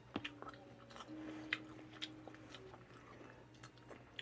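Fresh chili peppers chewed up close in a quiet mukbang, soft wet crunching bites repeating irregularly over a faint background hum.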